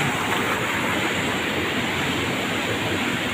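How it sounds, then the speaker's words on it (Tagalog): Monsoon floodwater rushes past a flooded vegetable field in a steady, loud roar of churning water, constant and close with no voices. "Maragasan na naman ang tubig."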